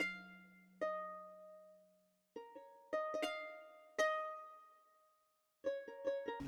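A sampled guitar from the Labs plugin in a lo-fi hip-hop remake plays sparse plucked notes and chords with long decaying tails and gaps of near silence, ending in a quicker cluster of strums.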